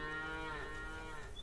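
Cattle on a farm in the game Farmer's Dynasty give a single drawn-out moo, close and clear, with no speech over it.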